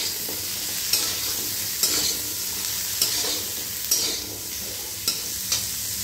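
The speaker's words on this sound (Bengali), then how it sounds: "গাজরটাকে আমি আগে অ্যাড করে দেব। দিয়ে এটাকে আবার 5-6 মিনিট মতো ভাজা ভাজা করে নেব।" Carrots stir-frying in a pan for a Bengali-style tofu curry, a steady sizzle with a spatula scraping and stirring at regular intervals about once a second, close and alone with no talking.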